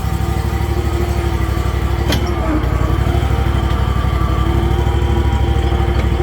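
A Kubota Z411 zero-turn mower with a 48-inch deck drives along, its engine giving a steady, loud, close rumble throughout.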